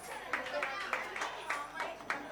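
An audience at an apartment-complex children's festival claps in a steady, fairly even rhythm of distinct hand claps, mid-distance, with faint crowd murmur underneath.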